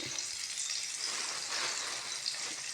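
Onions fry in a pan with a steady, soft, continuous sizzle and crackle, close by and without any talking.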